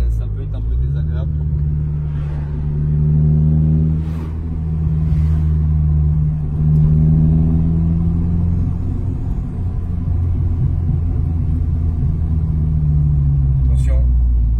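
Engine of a VTEC car heard from inside while driving: a loud, low steady drone with shifting engine tones that rise and fall, and people talking over it.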